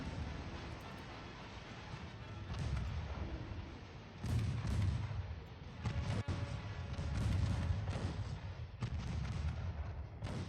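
Torpedo hits and naval gunfire in Ultimate Admiral Dreadnoughts: a continuous muffled rumble of battle, broken by dull booming impacts and a few sharper cracks, fairly distant and dense.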